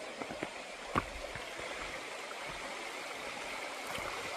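Creek water at Rock Creek along the Pacific Crest Trail flows in a steady, broad rushing wash, close and continuous, with a few faint knocks near the start and no talking.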